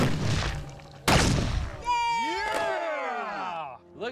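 A homemade Swedish cannon fires with one sharp, loud blast, followed by cheering and shouting voices nearby.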